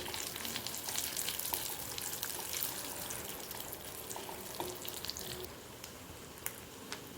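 Cashews, almonds, pistachios and raisins frying gently in ghee for pineapple shira. A soft, steady crackling sizzle continues throughout with faint scattered pops and light stirring, quiet and close.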